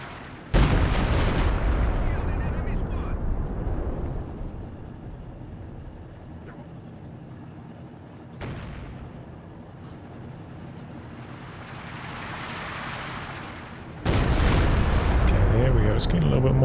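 Artillery firing for the Soviet faction in a strategy video game, with heavy booming blasts that hit hard and rumble away, a quieter shot midway and another loud barrage at the end, under someone talking.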